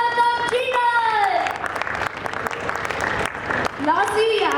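An audience at a Pune Book Festival panel applauds to welcome a speaker, a loose spread of clapping with cheering and whooping voices rising over it near the start and again at the end.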